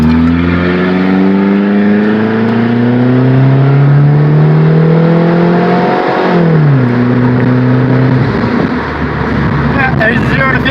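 Straight-piped GM 2.2L car pulls hard from a stop light, engine revving up loud and close with rising harmonics, a brief dip around a shift, then climbing again.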